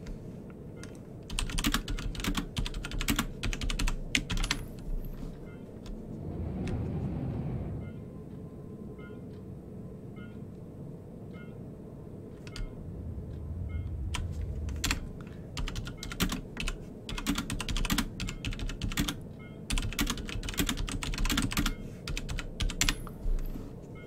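Computer keyboard typing during Star Citizen play, a long stretch of quick, fairly faint key clicks with a low rumble swelling briefly in the middle.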